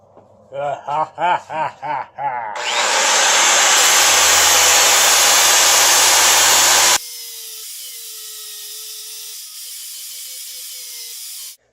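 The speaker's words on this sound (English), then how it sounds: "So now we're going to start grinding away, polishing, you know the drill." A forged bearing race knife is ground and polished, with short bursts of a motorized grinder winding up, then a loud sustained hissing grind, followed by a quieter steady whirring tone.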